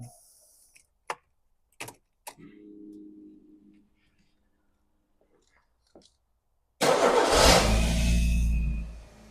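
A few clicks and a brief whirring crank, then quiet until an engine catches and roars to life loudly, running steadily near the microphone.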